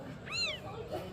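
A young kitten, apparently unfed by its mother, gives one clear rising-and-falling meow close by over a steady background hum, followed by a fainter second cry.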